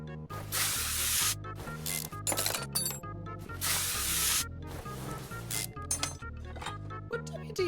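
WD-40 sprayed on bolts in Car Mechanic Simulator 2021 gives two sharp, hissing aerosol bursts of about a second each, set over rhythmic background game music with light metallic clinks.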